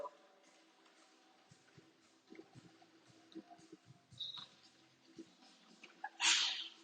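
A single sharp sneeze bursts out near the end, following quiet background murmurs and soft movement in a room.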